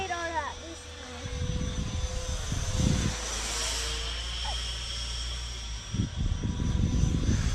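An RC model jet with a 70 mm power unit flying, a steady whooshing whine that sweeps past overhead, with a person talking nearby over the engine noise.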